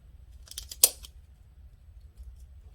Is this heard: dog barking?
no